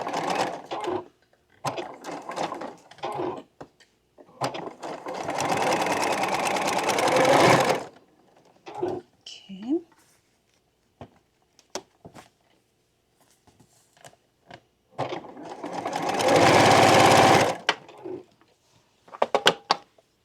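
A sewing machine stitches long fabric strips for an African Queen quilt block in two steady runs, each a few seconds long, with quiet handling clicks and fabric shuffling in the pause between them.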